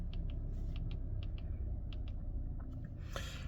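A small toggle switch on the center display of a 2024 Subaru Outback Wilderness gives a run of faint, close, light clicks at an uneven pace over a steady low cabin hum, with no talk.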